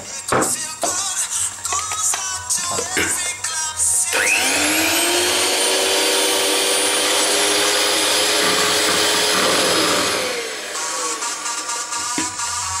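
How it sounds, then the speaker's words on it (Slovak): An electric hand mixer whips four egg whites in a bowl for a low-carb dessert, starting after a few seconds of clatter and running loud and steady for about six seconds before cutting off. "Teraz to rozmixujem."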